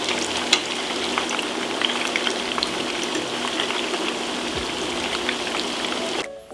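Minced-meat meatballs fry in a pan with a dense, steady sizzle and crackle, close and even throughout before cutting off abruptly, with no talk.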